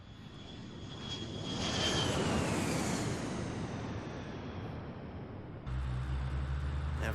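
An airplane engine roars past, swelling to a loud peak and then fading, its whine sliding downward, before a low rumbling hum takes over near the end.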